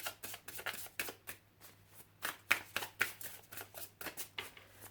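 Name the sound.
shuffling and cutting a deck of tarot cards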